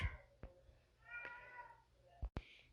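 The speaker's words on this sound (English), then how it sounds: "I don't know what's wrong with my cat." A house cat meows repeatedly indoors, calling out in several short and drawn-out cries at moderate distance, with a soft thump or two between them.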